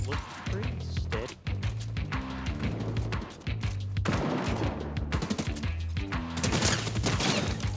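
Steady automatic fire from a combat SMG in Fortnite, rapid bursts rattling almost continuously over game music, with a player talking throughout.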